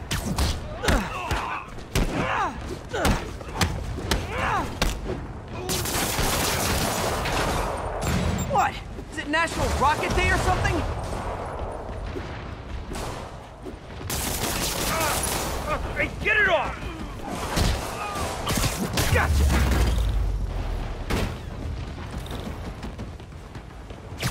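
Explosive rocket fire from a Spider-Man game battle: repeated loud blasts and heavy thuds over a dense rumble of combat noise, with someone talking over parts of the action.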